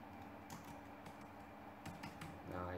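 Soft typing on a computer keyboard, with a few scattered key clicks heard faintly against a low background hum.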